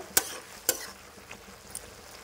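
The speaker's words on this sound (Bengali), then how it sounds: "ঝোলটা ফুটছে" A thick soybean, cauliflower and potato curry gravy simmers quietly in a pan over medium-high flame. A few sharp pops and bursting bubbles stand out against a soft, steady bubbling.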